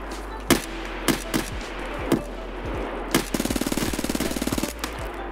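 A KRISS Vector .45 ACP firing in Escape from Tarkov: scattered single sharp shots early on, then a rapid full-auto burst of about a dozen rounds with echoing tails, loud against quiet ambient hum.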